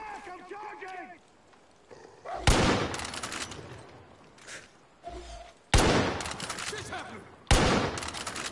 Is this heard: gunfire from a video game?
yes